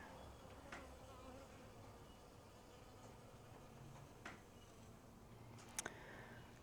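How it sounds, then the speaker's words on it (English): Faint buzzing of bees hums through a quiet early spring garden, with occasional soft clicks and ticks drifting in. "So the bees are out and they are doing their job in the garden"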